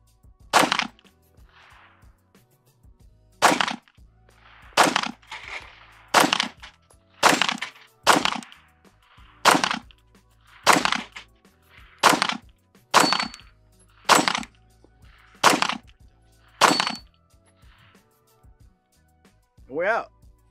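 Sharp, loud pistol shots from a double stack 1911 ring out at a steady pace, each crack followed by a short metallic ring from steel targets, with brief gaps between the shots.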